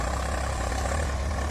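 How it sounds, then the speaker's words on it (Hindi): Steady low engine drone from a Swaraj 855 tractor pulling a harrow through a field, a continuous heavy rumble with no breaks or voices over the short stretch. "भाइयों ट्रैक्टर देखो कितना जबरदस्त काम कर रहा है"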